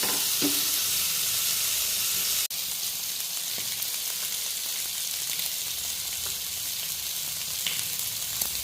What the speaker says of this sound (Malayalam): ആ സൈഡിൽ കൂടെ നല്ല ഫ്രൈ ആയിട്ട്